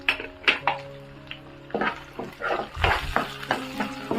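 Onion sautéing in a pan with tomato and green chili paste added, heard as scattered stirring scrapes, spoon clinks against the pot and a low sizzle, close and moderately loud with no talk.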